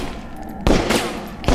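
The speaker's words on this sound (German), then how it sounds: "einfach mal wüst auf alles schießen" Gunfire in the video game Overclocked: two sharp, loud blasts with ringing tails, one near the middle and another at the end, over a low game ambience with no speech.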